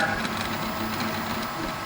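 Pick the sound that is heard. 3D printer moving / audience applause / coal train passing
3D printer moving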